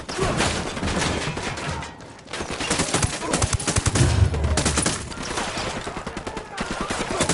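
Dense, sustained gunfire from a sniper engagement in the video game Ghost Recon Wildlands, with rapid overlapping shots and bursts crackling loudly throughout, briefly easing near the two-second mark before resuming with sharp repeated reports.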